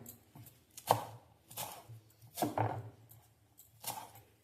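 A knife chops fresh coriander leaves on a board, four or five distinct close, crisp cuts at a slow irregular rhythm, quiet and without speech.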